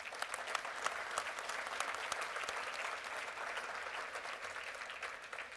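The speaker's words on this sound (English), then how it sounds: "How about a round of applause?" An audience at a university community event breaks into a round of applause, sustained and even clapping with some sharper individual claps standing out, somewhat distant.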